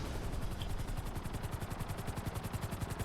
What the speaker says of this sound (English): There we go, into a helicopter.